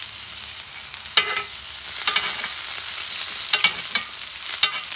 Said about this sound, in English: You're going to use the steak, fat, and the oil and the butter to saute this baby